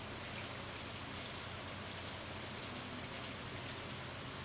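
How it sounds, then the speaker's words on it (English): Steady rain patters without pause in the farming video game Stardew Valley, a dense, even hiss of falling drops that fills the whole stretch at low volume, with no talking over it. "might as well go to sleep, because it's two rainy days in a row"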